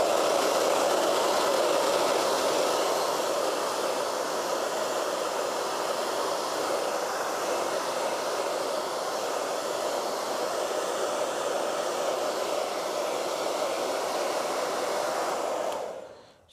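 A hair dryer drying an acrylic painting blows a continuous loud, close whoosh that holds steady for about fifteen seconds, then cuts off abruptly at the end.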